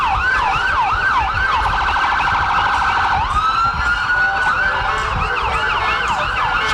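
Fire department and EMS vehicles move through a town parade with their sirens wailing, several overlapping sirens cycling through yelp and wail patterns, loud and close, continuous throughout.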